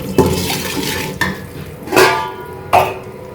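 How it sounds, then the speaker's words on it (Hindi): Kamarkas gum frying in desi ghee, a low sizzle broken by several sharp scrapes and clinks of a spoon stirring against the pan, close and fairly loud, no talking. "इसको हल्का सा फ्राई करना है, ज़्यादा नहीं करना ताकि ये जले ना"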